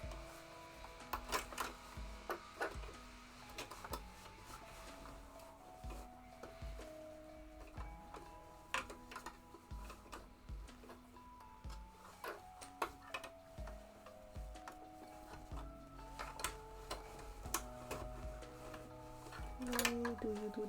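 A sewing machine stitching fabric for shorts, with bursts of quick rhythmic ticking stitches broken by pauses and small clicks, quiet and close.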